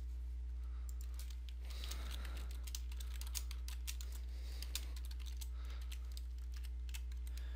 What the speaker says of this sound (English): you can go ahead and type in something like patch my PC.